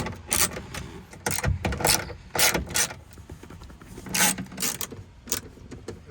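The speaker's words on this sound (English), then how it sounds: "we want to pull out these 10mm bolts" A ratchet backs out 10mm bolts from the sliding door of a 2012 Honda Odyssey Touring Elite. Close, rapid clicking bursts repeat irregularly, mixed with metallic tapping and light handling noise.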